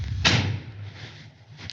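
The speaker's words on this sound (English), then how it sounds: "can we just take a moment to appreciate the G-Class door? There is literally nothing else that feels or sounds like this." Door of a 2025 Mercedes-AMG G 63 G-Class shut once with a solid, heavy thunk, close and fairly loud, followed by a short fading resonance in a quiet space.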